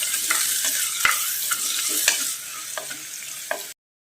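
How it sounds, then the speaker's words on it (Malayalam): Onion, garlic and curry leaves sauté in two tablespoons of oil, a steady close sizzle broken by several sharp spoon taps and scrapes against the pan, ending abruptly, with no talking. "2 ടേബിൾ സ്പൂൺ എണ്ണ ഒഴിച്ചിട്ട് നമുക്ക് സവോള അങ്ങ് വഴറ്റിയെടുക്കാം"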